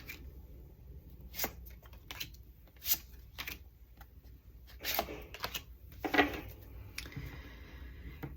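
A deck of cards is shuffled and handled quietly nearby, giving soft riffles and crisp flicks in scattered bursts against a still, quiet room.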